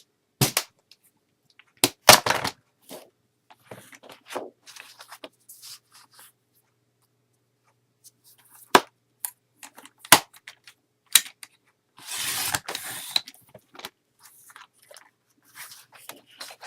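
Scissors snip through paper while trimming pieces for a handmade mini album, a few sharp crisp cuts spaced out with quiet handling rustles between them.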